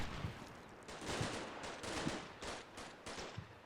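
Rapid bursts of small-arms and machine-gun fire crackle in the Combat Mission Shock Force 2 war game, sharp repeated shots arriving in irregular clusters at moderate distance, quiet overall with no talk.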